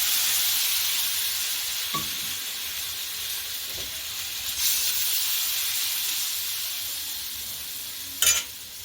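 Chickpea flour pudla frying in a little oil in a pan, a soft, steady sizzling hiss with a few faint pops and clicks, heard alone and fairly quiet.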